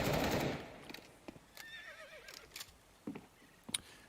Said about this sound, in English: You can hear horses on this side of the map?